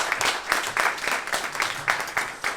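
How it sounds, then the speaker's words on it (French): An audience at a press conference opening the FSBK-FE at Le Mans claps in a brief, fairly faint burst of scattered applause with distinct individual claps. "vous pouvez l'applaudir très très fort, Martin."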